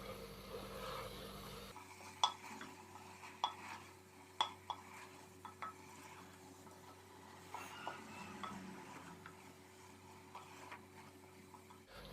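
A spoon stirs cauliflower and carrots in a cooking pot, giving faint, scattered clinks and scrapes against the metal at an uneven pace over a quiet background.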